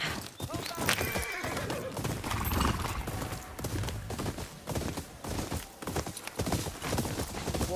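Horses trot with busy clip-clopping hooves and neigh loudly in the video game Ghost of Yōtei, the rhythmic hoofbeats continuing close by while people talk over them.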